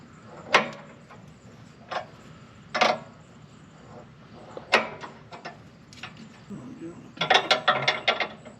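Wrench work loosening the bolts on a rear anti-rock sway bar of a lifted 2021+ Ford Bronco gives sharp metallic ratcheting clicks in scattered bursts, close by, ending in a quick rapid run of clicks.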